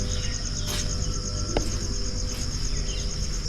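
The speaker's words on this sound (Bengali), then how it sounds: "ঝিঝিদের ক্লান্তি নেই।" Crickets shrill continuously in a Palamau forest near Betla at early morning, with a steady, loud, pulsing chorus that never pauses and a few faint distant birds.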